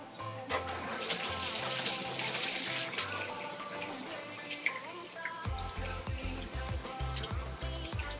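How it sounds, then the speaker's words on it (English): Coolant draining out of a car radiator on a Nissan 240 with an RB20DET engine: a steady, fairly faint splashing trickle that swells early on, over a low, rhythmic background. "So we're going to drain the radiator"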